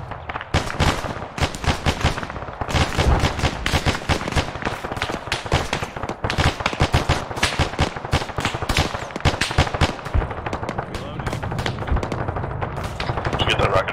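Gunfire in ArmA 3, near-continuous rapid automatic bursts and single cracks, loud and close, with voices talking over the shooting.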